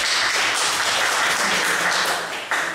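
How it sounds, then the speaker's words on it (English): A crowd applauding steadily, a dense wash of many hands clapping at once, sustained throughout and fading slightly near the end. "give me a round of applause"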